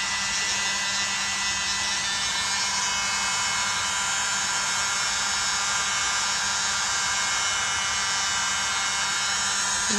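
A tiny electric blower runs without a break, pushing paint across a canvas in a Dutch pour, a steady high whine with a low hum beneath it, close and even throughout.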